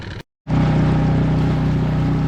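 A small motorboat engine drones steadily and loudly up close after a brief gap, with a constant motor hum and wind as the boat runs back toward a dock.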